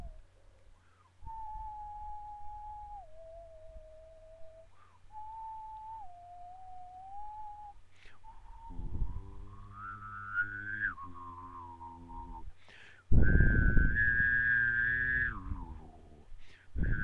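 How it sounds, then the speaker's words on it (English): A person whistles during Pitfall 2 on the Atari 2600, with pitch steps between two notes and short gaps, then a louder, rougher stretch that sounds hummed over game tones. "That's what happens when you try and whistle two notes"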